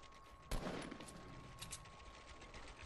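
A single sharp sniper rifle crack in Fortnite rings out close, followed by a couple of fainter, more distant shots over a steady game background.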